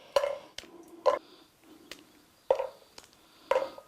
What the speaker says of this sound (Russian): Вот их мы сперва берем, крошим, очень мелко,